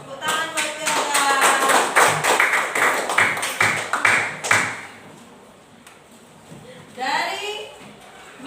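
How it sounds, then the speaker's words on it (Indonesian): Schoolchildren in a classroom clap together in a rhythmic, patterned burst for about four seconds, loud and close, followed by a quieter stretch and then children's voices. "Tepuk tangan buat Yoga."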